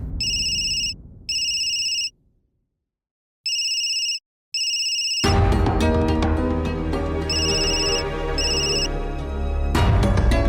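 A phone ringtone chirps in short repeated bursts, then music swells up loudly and the ringing continues over it.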